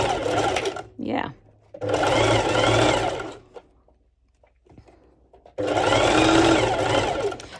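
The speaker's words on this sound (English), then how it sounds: "I'll be zigzag stitching it" A sewing machine zigzag stitching a bikini top runs in three loud, close bursts of rapid whirring, with short pauses between them and brief handling noises in the gaps.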